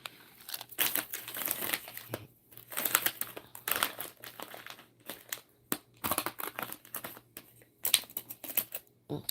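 Plastic packaging crinkling and rustling up close, coming in irregular bursts of crackling with short pauses between handlings.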